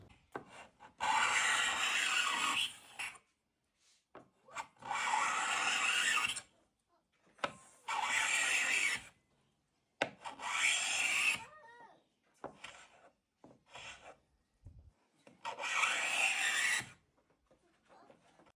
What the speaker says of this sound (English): I'm going to turn the sound on so that you can get an idea of the speed that you're scraping and the sound that you should be hearing